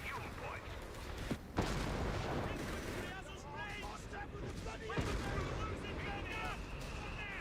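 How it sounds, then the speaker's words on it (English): Artillery barrages from Bishop guns in Company of Heroes 3, with repeated booming impacts and rumbling blasts layered under continuous commentary from a caster. "A lot of bishop barrages coming in."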